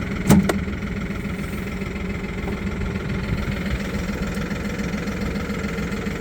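A nearly new Toyota 02-8FDL25 diesel forklift engine idles steadily at close range, a low, even rumble with a faint knocking texture and one brief sharp knock near the start, with no talking.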